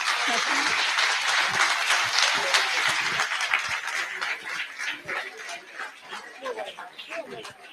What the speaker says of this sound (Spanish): con un aplauso despedimos a nuestros tribunos